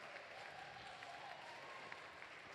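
An audience claps for glassblowers at a museum hot shop, a steady, continuous round of applause heard from a distance, soft and even throughout.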